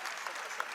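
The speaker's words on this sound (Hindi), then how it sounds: "जोरदार तरीके से स्वागत करें उनका, ताली बजाकर" Audience applause at a public event in Indore for the Chief Minister's birthday, a steady wash of distant clapping from a large crowd, brief and fairly faint.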